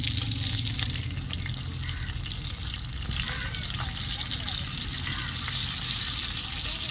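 Four fish cook in a clay pot with a steady close sizzle and bubbling, with soft scraping and occasional clinks of handling over it.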